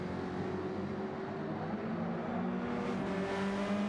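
Touring race cars climbing a hill on a circuit, a continuous distant engine drone that swells slightly, faint and without talking.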